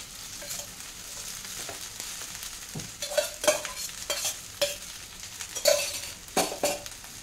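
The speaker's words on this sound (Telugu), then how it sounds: "ఆ రైస్ ఇక్కడ వేసేస్తున్నాను." Freshly cooked Sona Masoori rice tipped into a hot pan and stirred, a soft sizzle under repeated scraping and clinking of a utensil against the pan, growing busier in the second half, close by and without talk.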